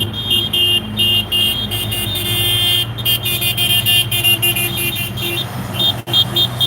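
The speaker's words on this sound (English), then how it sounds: "I've heard they're honking at the people in the jail, so the people in the jail hear them actually." Many car horns honk at a protest outside a jail at a criminal courts building: loud, overlapping toots and sustained blasts with short breaks, nearly continuous, over steady traffic noise.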